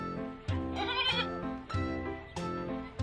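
Sheep bleat close by, with three or four wavering calls in a row, clear and fairly loud against a quiet background.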